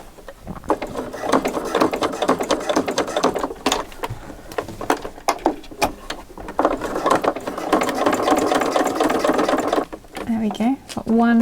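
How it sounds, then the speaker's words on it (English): A sewing machine runs in long steady bursts while stitching Velcro alongside bias tape, with a mechanical ratcheting whir, a short pause, then more stitching; someone speaks briefly near the end. "I'm stitching the Velcro just to the side of the bias tape"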